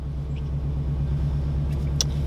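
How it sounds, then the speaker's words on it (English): A Subaru WRX engine rumbling steadily as the car drives off to warm up, a low, even drone close by with road noise and a brief faint click near the end. "we're just gonna take the car out, let her warm up a little bit"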